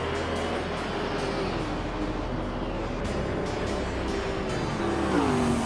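Racing cars on the Nürburgring GT short circuit in a video game, engines droning and shifting pitch continuously as cars jostle closely, with brief tire squeals and a louder pass near the end.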